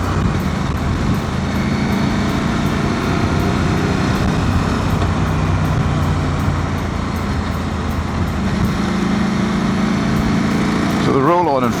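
A KTM 790/890 Adventure motorcycle with a modified ECU drones steadily along the road, its engine note and wind rush loud and continuous from the rider's position, with a brief rising rev near the end.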